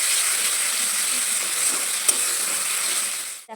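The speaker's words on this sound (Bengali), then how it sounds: "মশলাটা যতক্ষণ পারবে কষাতে থাকো" Masala for aloo chicken curry sautéing in oil in a pan, a steady close sizzle and fry with a few stirring scrapes, ending in a brief clatter.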